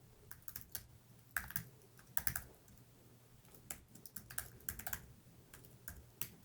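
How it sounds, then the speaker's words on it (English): Computer keyboard typing as an email address is entered, with irregular bursts of crisp, close key clicks separated by short pauses and no speech. "To set up an account, type in your email address,"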